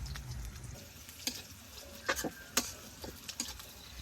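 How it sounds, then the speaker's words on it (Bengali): Onions frying and being stirred in a pan, with a soft, faint sizzle and scattered sharp scrapes and taps of the utensil against the pan, no talking. "পেঁয়াজটা একটু সুন্দর করে বেজা নিলে ভর্তাটা বেশি মজা লাগে একটু লাল লাল করে বেজা নিলে"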